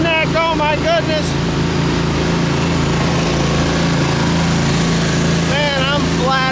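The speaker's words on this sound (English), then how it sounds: "let's go see who can mow more grass" A John Deere and a Skag lawn mower cut grass together, their engines droning loud and steady throughout, while a voice speaks in a rising, sing-song way near the start and end.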